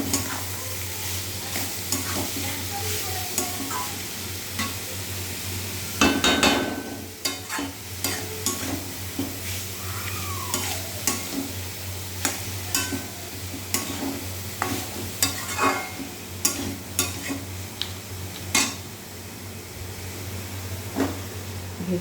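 Grated papaya sizzles in a pan for a vegetarian dish, with a steady frying hiss, a low hum beneath and repeated scraping strokes of a spatula stirring it, loud and close.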